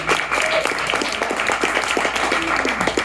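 An improv theater audience claps steadily and enthusiastically for a few seconds, a dense wash of applause filling the space.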